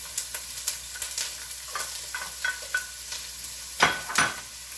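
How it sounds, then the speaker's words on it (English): Food browning in a pan for pastitsio sizzles steadily, with a string of soft stirring scrapes and two louder clatters near the end, and no voices. "It's sizzling."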